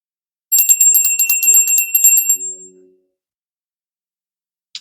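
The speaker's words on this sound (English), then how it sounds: "We're going to ring the bell, clear these energies" A small handheld bell is rung rapidly at the opening of a tarot reading to clear energies, giving a bright, close, repeated tinkling ding for about two seconds that decays into a soft ringing tail, followed by near silence.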